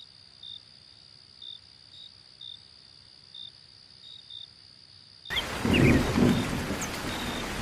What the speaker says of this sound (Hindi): अब बारिश हो गई